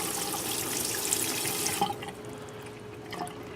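Water splashes and runs steadily for about two seconds as it drains off dampened items in a sink, then cuts to a quieter background with faint drips and a soft trickle.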